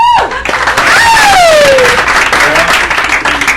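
A comedy club audience answers with a loud round of applause, dense clapping close by, with a whooping voice and crowd cheers rising over it.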